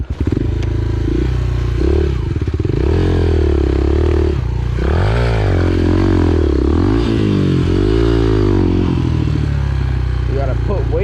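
An enduro motorcycle ridden on an enduro cross course with the clutch being modulated, its engine loud and close, pitch rising and falling in repeated revving surges, with a voice talking over it.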